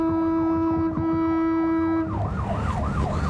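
An ambulance siren in Nashville wails loudly and close, holding a steady tone before switching to a fast rising-and-falling yelp.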